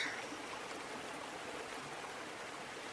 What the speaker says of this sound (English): listening to the distant crashing of the waves